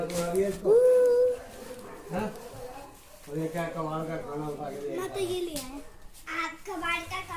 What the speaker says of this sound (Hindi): ये है इनका कुत्ता